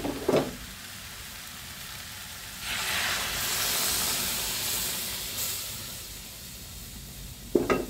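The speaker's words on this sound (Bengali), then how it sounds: "এখন আমি গরম জলটা দিয়ে দিচ্ছি।" Hot water poured into a simmering pangas fish-head and papaya curry, a soft rising hiss and steamy sizzle swelling for several seconds between brief clanks of a pot or utensil at start and end.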